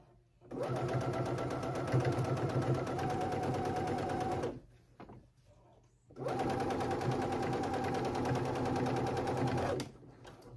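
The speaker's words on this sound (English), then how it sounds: "let's go ahead and sew this down" A sewing machine stitches binding down along a folded edge on a tank dress, running in two steady bursts of rapid rhythmic needle clatter separated by a short quiet pause.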